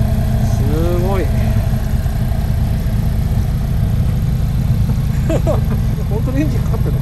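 An Alfa Romeo 4C idles near Mount Tsukuba with a steady, low, throbbing engine note that holds constant while people talk over it.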